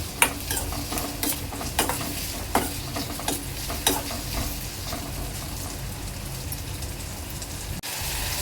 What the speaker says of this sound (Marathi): कांदा चांगला मऊ होईपर्यंत शिजवून घ्यायचा आहे